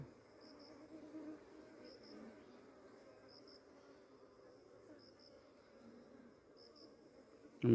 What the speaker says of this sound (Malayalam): വളരെ ശാന്തരായ ഈച്ചകളാണ്